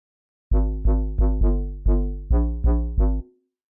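A deep, layered UK garage synth bass of three layers including a sub plays eight punchy notes in a choppy garage rhythm, each one decaying quickly, loud and alone with no talking.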